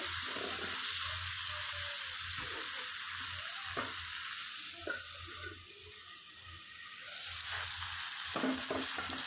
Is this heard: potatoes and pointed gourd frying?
yes